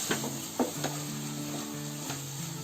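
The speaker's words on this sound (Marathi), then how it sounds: "आणि तुम्हाला आता ढवळून दाखवते बघा" A spoon stirs methi bombil bhaji, fenugreek leaves with dried Bombay duck, in a pan, with soft scraping strokes and a few clinks over a steady sizzle and a faint background hum.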